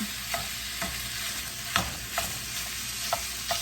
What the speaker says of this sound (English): let's get started on browning our sausage here